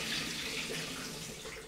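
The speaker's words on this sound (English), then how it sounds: "I've just finished processing and I'm gonna empty out the water" Water is poured out of a film processing tank after developing Rollei infrared film in a MOD54 processor, a soft steady splashing stream, faint and alone.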